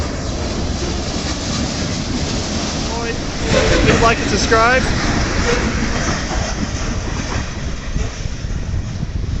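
A Canadian National freight train rumbles past steadily in Battle Creek, Michigan, a broad continuous roar with faint squealing wheels in the middle; a voice speaks briefly over it.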